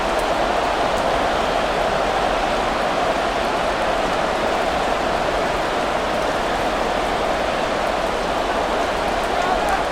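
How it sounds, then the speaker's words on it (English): Rain falls on a wet afternoon at a Madden NFL 24 football game in Charlotte, a steady, dense hiss of raindrops that stays loud and even throughout, with no break. "Set to go now on a wet and rainy afternoon."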